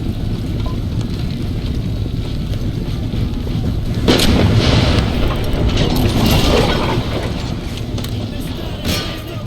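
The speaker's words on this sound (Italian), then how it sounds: "Qui si continua a sparare con i cannoni addirittura." Cannon fire in a siege battle in Empire: Total War, booming blasts around the midpoint over continuous wind-like battle rumble, with a voice talking faintly beneath.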